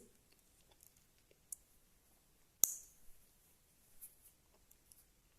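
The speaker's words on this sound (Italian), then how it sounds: "avete sentito che click perfetto? È una chiusura che invece mi ha sorpreso." A Benyar BY-5179M wristwatch clasp snaps shut with a single sharp, close click, followed by faint handling noises in an otherwise quiet setting.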